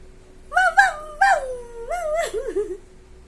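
A child imitates a dog with a few quick, high yips followed by a longer wavering howl-like whine, all close and loud.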